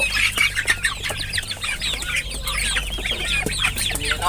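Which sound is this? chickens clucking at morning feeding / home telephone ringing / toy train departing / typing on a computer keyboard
chickens clucking at morning feeding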